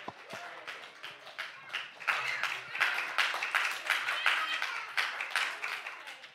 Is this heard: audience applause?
yes